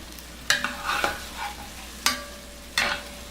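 A spoon stirs Macintosh apple and onions cooking in a pan, with a few distinct scrapes and clacks against the pan over a soft, steady sizzle close by.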